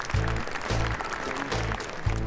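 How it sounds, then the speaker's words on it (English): Applause from a crowd at the Javits Convention Center, steady clapping for about two seconds with no talk over it. "that deserves a great round of applause"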